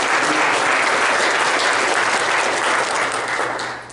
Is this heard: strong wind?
no